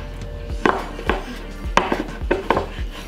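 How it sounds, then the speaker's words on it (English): A whisk knocks and scrapes against a bowl while flour and cornstarch are mixed for a dairy-free trifle. About six sharp, separate taps land at an uneven pace, close and fairly loud. "and whisk it up."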